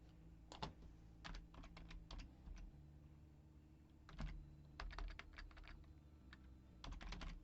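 Typing on a computer keyboard during a Thrive multicellular game session, with quick bursts of sharp key clicks separated by short pauses, close and fairly quiet over a steady low hum.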